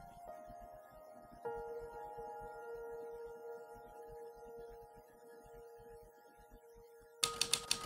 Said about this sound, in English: the sound of his typewriter